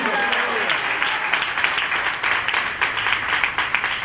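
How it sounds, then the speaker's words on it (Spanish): A church congregation breaks into strong, sustained applause, a thick wash of many hands clapping at once, fairly loud and close, with a voice speaking through part of it. "Den un fuerte aplauso a Cristo."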